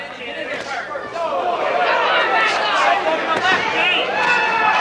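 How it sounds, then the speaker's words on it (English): Boxing crowd at a WAA title bout between Irish Gene Reed and Mad Dog Mason, a dense roar of many voices chanting and shouting together, loud and sustained throughout. "I heard the chant of Mad Dog."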